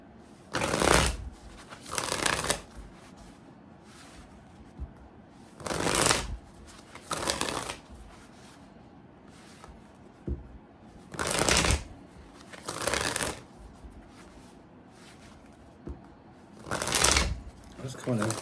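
Zombie Tarot cards are shuffled by hand in repeated short bursts of crisp riffling and fluttering, with quiet pauses between each burst. Each burst lasts about a second.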